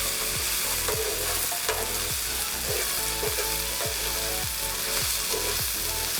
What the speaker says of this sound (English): followed by bitter gourd, which I slice it very thin. Stir them and mix them well.